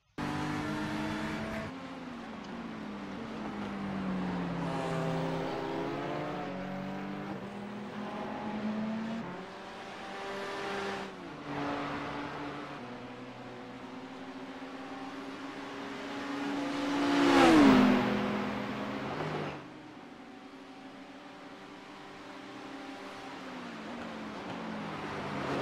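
Race cars at the Bathurst 12 Hours endurance race scream past with high, revving engine whines rising and falling through gear changes, one car sweeping close and loud near the end before fading away.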